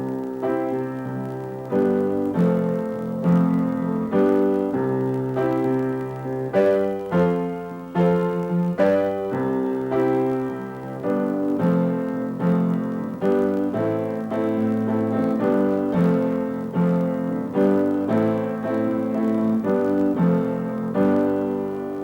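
A piano plays a slow chord progression from the six chord to the five and then the four, with full sustained chords repeated in a steady rhythm, close and clear with no voices.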